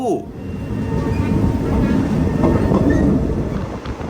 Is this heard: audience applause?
no